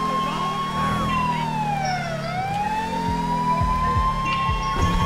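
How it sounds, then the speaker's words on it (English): Police car siren in Grand Theft Auto V, a steady electronic wail sweeping down and back up, loud and continuous over a low engine rumble with no talking. "And turn the siren on."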